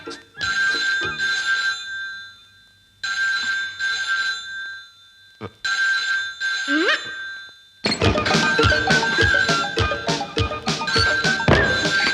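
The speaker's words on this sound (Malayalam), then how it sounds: "ഞാൻ എത്ര നേരമായിട്ട് ഇങ്ങനെ ഫോൺ വിളിക്കുന്നുണ്ട്" An old telephone in a Malayalam film scene rings in repeated bursts separated by short silences, loud and close, the last stretch thicker with overlapping sounds.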